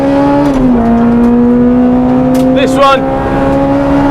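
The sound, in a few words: Honda Integra DC5 Type R K20A engine on track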